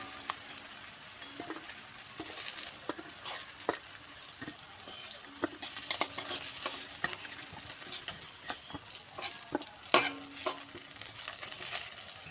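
Pieces of teasel gourd fry in oil while being stirred, a steady sizzle broken by repeated scraping and clinking of a spatula against the pan throughout.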